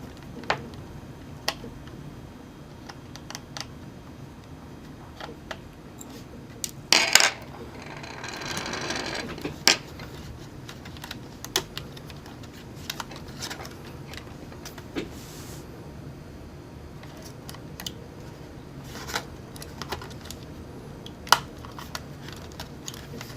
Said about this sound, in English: taking out the wireless card now